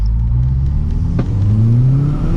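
An Audi S3 1.8T replica's engine revs hard on a dyno and climbs steadily in pitch, loud and close with a droning whir, no voices.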